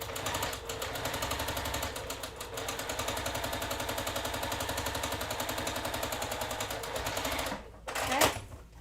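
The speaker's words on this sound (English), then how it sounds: "we're going to sew a 1/4 inch on either side of the block" A sewing machine runs steadily, stitching a quilt block with a quarter-inch foot, its fast rhythmic needle chatter continuous and close for most of the stretch, then stopping with a brief clunk and rustle near the end.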